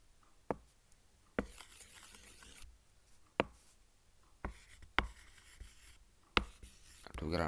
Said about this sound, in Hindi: चले मैं ये लिख लेता हूँ